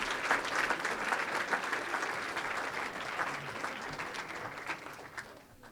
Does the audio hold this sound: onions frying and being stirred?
no